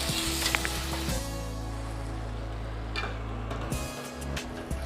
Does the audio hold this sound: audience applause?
no